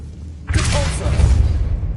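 A Repulso spell blast in Hogwarts Legacy erupts with a sudden broad whooshing burst, then settles into a lingering low rumble with no talk over it.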